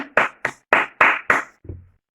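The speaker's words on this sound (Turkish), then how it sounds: "Herkes kendini alkışlasın." Kindergarten children clap for themselves in unison, about six sharp, evenly spaced claps close by, ending in a brief low murmur.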